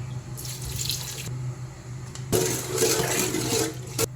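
Water runs steadily from a tap into a cooking pot while making a Filipino stew with onion, garlic, sugar and vinegar, two separate bursts of pouring and splashing, close and fairly loud, with no talk.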